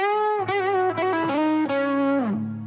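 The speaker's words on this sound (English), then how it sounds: "if I just have the delay on its own" An electric guitar plays a short lead solo line through a delay effect alone, with bright sustained notes bending and sliding, close and loud, each note trailing into faint repeats.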